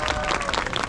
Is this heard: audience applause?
yes